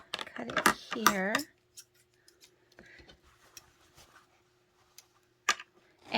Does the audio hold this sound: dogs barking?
no